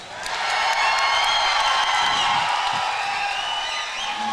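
A fight-night crowd at an Elevate Fighting Championship event claps and cheers steadily for several seconds, a dense wash of applause with scattered whoops from a large audience.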